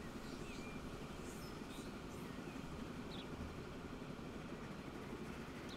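A train rolls along rails in the game Transport Fever 2, with a steady rumbling run, faint wheel squeals and a continuous low wind-like wash, fairly quiet and heard alone.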